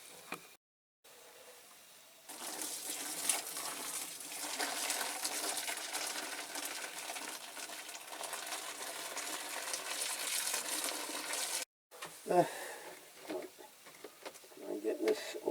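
Metal toy part from a Britains British Army covered tender held under a running tap, a steady close gush of water lasting most of the stretch, with brief handling knocks before and after.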